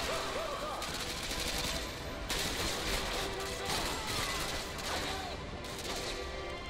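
Rapid gunfire in a video game where shotguns dominate, a near-continuous, loud barrage of overlapping shots and crashes across the whole stretch, with a faint voice underneath.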